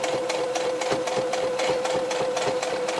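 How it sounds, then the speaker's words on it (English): A sewing machine stitches across a layered, pinned tea towel, running steadily and loudly with a constant whirring hum and rapid mechanical needle clatter, close up with no voices. "if I can find the foot of my sewing machine, sew across"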